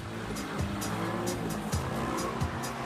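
A car spins donuts in a confined space at a drifting event, its engine droning steadily while the tires squeal in repeated high bursts every half second or so, loud and close with no voices.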